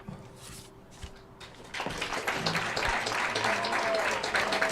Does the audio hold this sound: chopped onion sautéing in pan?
no